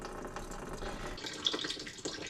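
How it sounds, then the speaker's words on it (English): Water drains out of a car radiator during a coolant-flush maintenance job, a soft, close trickle and splash that grows busier partway through, with a few brighter drips and no talking. "drain the first bit out of the radiator"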